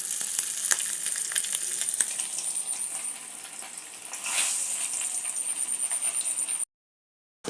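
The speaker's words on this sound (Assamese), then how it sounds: "এটা এইটো ভাজি চৰা হৈছে।" Magur catfish frying in hot oil in a pan, a continuous close crackling sizzle with scattered sharp pops and a brief surge midway before cutting to silence.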